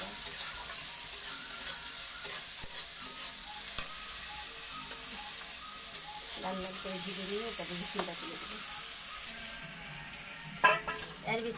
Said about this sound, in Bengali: পেঁয়াজটা খুব ভালো করে লাল লাল করে ভাজা করে এখানে কাঁচা লঙ্কাগুলো দিয়ে দেবো